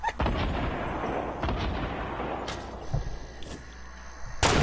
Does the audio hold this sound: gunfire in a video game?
yes